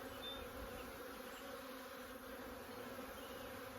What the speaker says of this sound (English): they're bringing in nectar